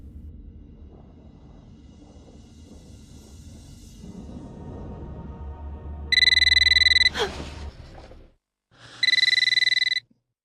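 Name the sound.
telephone ringing in Eternal Darkness video game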